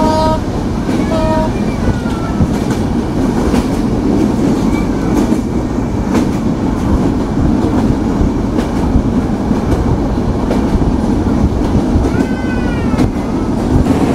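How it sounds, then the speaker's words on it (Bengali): The Madhumati Express intercity, running with LHB coaches, passes through Sardah Road railway station in a loud, continuous rumble with a steady rattle of wheels on track and faint high squeals. "intercity Madhumati express through pass by Sardah road railway station"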